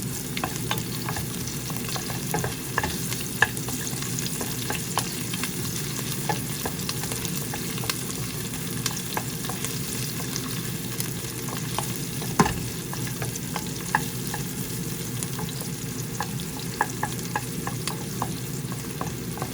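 Onion frying for a pork kaldereta while an old, worn wooden ladle stirs it, a steady close sizzle broken by frequent scraping and clacking strokes across the pan, no voices.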